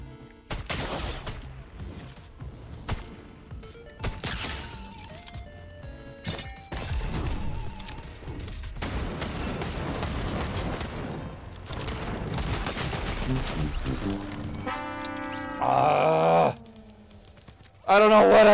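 Mythic shotgun blasts in Fortnite gameplay, sharp loud shots scattered among explosions, game effects and music, with someone talking over much of it.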